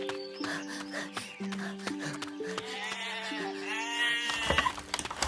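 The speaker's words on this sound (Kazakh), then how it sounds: "Ей, Мұхан, қорадағы қойларды өріске айдаңдар." Sheep bleat from a pen in an animated cartoon, several wavering calls rising over a steady musical backdrop in the second half.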